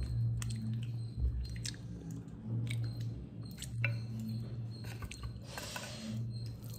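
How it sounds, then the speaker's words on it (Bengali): A person chewing homemade handi chicken close up, soft wet squishy chews repeating in an irregular rhythm over a low background hum. "প্রথমবার তো হান্ডি চিকেন খাচ্ছ, ঘরে বানানো।"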